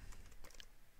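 Quick, soft keystrokes on a computer keyboard as a terminal command is typed, a brief burst of several faint clicks close by.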